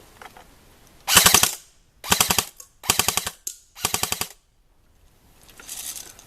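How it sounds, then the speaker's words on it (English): An A&K SR25 airsoft rifle fires four loud, close full-auto bursts, each a rapid rattling string of shots separated by short pauses, followed by a fainter fifth burst at the end. "It's got a pretty high rate of fire."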